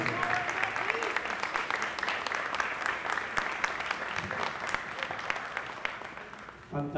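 Steady applause from an audience at an MCCC 2021 activities presentation, continuous clapping for several seconds at moderate level, with a voice cutting in right at the end.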